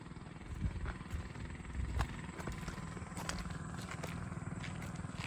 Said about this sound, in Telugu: ఇప్పుడు డ్రోన్ ఎట్లా వస్తుంది చూడండి పైనుంచి.